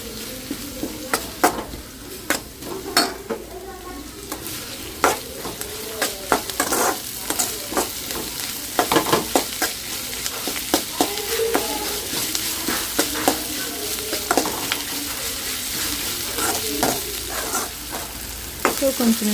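Onion and spices frying in a pan for a festive home-cooked Ugadi dish, a steady close sizzle broken by repeated scraping and stirring strokes of a spoon against the pan, with no talking.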